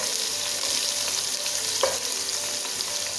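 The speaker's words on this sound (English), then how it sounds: "Now I will now add onion." Onion sizzles in hot oil with garlic and ginger paste while being stirred for fried rice, a continuous close hiss with a brief scrape of the spoon near the middle and no talking.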